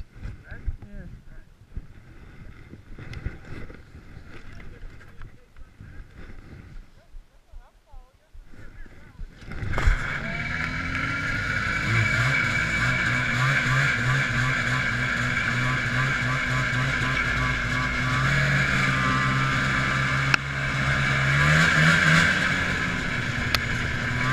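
A 1980 Arctic Cat Panther snowmobile starts up about ten seconds in, then drives off with a loud, steady engine drone and some wind buffeting. Before that there is only quiet background noise.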